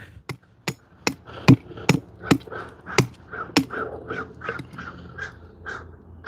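Crows caw repeatedly outdoors in freezing winter woods, a steady series of harsh calls mixed with sharp, regular knocking strikes from wood carving a kuksa nearby.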